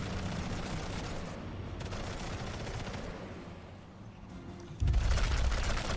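Machine gun fire in the Sniper Elite 5 video game comes as a steady, fairly quiet rattle of automatic shots, with a sharper, louder burst near the end.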